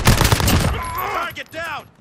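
Loud, close gunfire in Call of Duty: Modern Warfare, a dense burst of rapid shots followed by echoing tails and a few scattered cracks.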